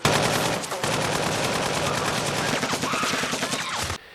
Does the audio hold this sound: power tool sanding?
no